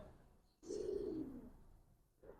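A Giribaz pigeon held in a person's hand gives a single soft, low coo lasting about a second, faint and close, with a quiet hiss around it.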